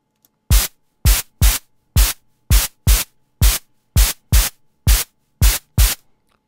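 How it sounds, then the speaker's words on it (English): Short bursts of white noise repeat in a steady rhythm, about a dozen sharp noise hits separated by silence, like a snare pattern, shaped by a side-chained gate. "we'll put the white noise on there."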